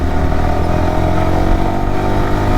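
A BMW M1000RR superbike engine drones loudly and steadily while riding on a road trip, a close, continuous mechanical hum with a rough pulsing texture.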